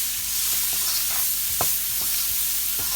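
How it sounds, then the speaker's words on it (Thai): Large onion stir-fried in a pan while cooking a seafood dish, with steady close sizzling and several scraping spatula strokes against the pan. "ใส่หอมหัวใหญ่ลงไปผัดอีกรอบค่ะ"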